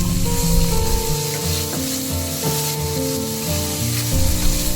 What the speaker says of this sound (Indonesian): Kemudian masukkan irisan bawang bombaynya.